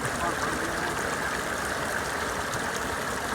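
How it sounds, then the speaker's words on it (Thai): Clear water streaming down a waterfall in a natural setting, a dense and steady rushing wash that stays close and loud throughout, with no speech. "น้ำตก น้ำใสนะครับ น้ำใสสะอาดนะครับ เย็นชื่นใจ"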